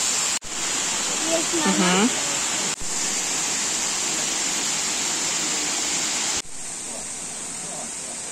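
Steady broadband roar of the Kursunlu waterfalls in Turkey, loud and continuous throughout, with a brief murmured voice early on and a few abrupt level changes.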